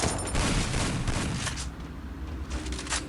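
Dense bursts of automatic gunfire ring out in the Free Fire battle royale game, loud and rapid at first before fading into scattered shots.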